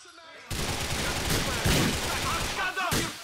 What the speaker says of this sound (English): Get ready for a shotgun again.